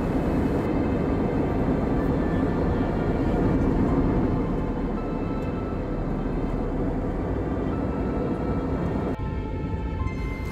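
Inside the cabin of an Air India flight from Dubai to Hyderabad, a loud, constant engine and air roar drones evenly, with no talking.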